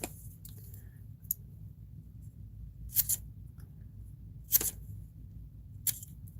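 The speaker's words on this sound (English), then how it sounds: "now I gotta go through here and cut out little pieces" Small dollar-store scissors cutting little pieces for a collage, a few sharp isolated snips spaced about a second apart over a quiet low hum, close and crisp.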